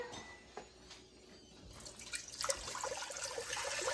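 Water pours steadily into a container, a soft trickle that swells into a fuller, continuous splashing stream, fairly quiet and close.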